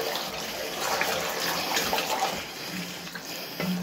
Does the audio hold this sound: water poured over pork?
yes